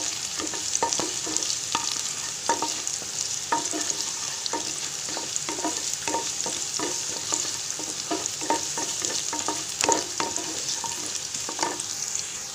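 Garlic frying in oil, a steady close sizzle with repeated sharp scraping ticks from stirring running through, no voices.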